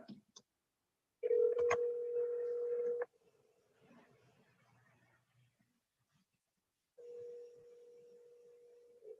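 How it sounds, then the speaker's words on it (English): A phone is dialed, with a short burst of keypad tones, then a steady tone that cuts off. Faint rustling follows in a quiet room, and a steady tone returns near the end. "So let me dial this one right here."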